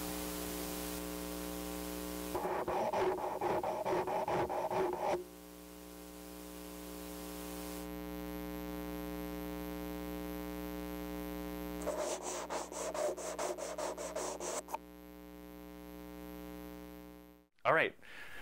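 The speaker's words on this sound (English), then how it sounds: "Does the laser Doppler vibrometer sound the same as the accelerometer?" Insect vibrations on a plant stem, picked up by a laser Doppler vibrometer and an accelerometer, come through as two bursts of rapid scratchy pulses over a steady electrical hum and static hiss, ending in a sharp click.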